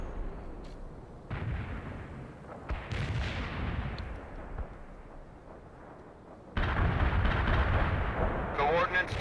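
An artillery barrage rumbles through the World in Conflict game in deep, heavy booms and rolling blasts, loud and sustained. It grows denser toward the end, with radio-style voices talking over it.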